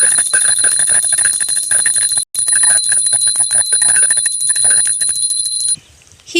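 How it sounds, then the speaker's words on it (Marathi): A brass hand bell from a home prayer room is rung outdoors in rapid, repeated strikes. It gives a loud, bright, sustained metallic ring close by that pauses once briefly and then cuts off near the end. "ही मी आज देवघरातली घंटा थोडी बाहेर घेऊन आले"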